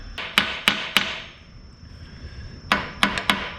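Sharp metallic hammer strikes staking screws on an International Harvester 1066 tractor transmission, a quick burst of three blows, a pause, then four more, close and loud with no talk.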